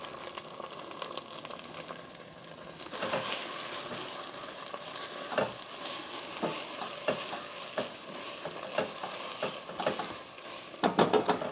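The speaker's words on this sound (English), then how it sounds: "we're going to add onions right now." Onions and Thai basil fry in curry with a steady sizzle, broken by repeated scraping and clacking as a utensil stirs the pan, close and moderately loud.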